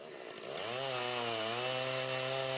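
Chainsaw mill cutting a log square, the saw rising from a low start into a steady high whine that wavers slightly in pitch, close and fairly loud, with no speech.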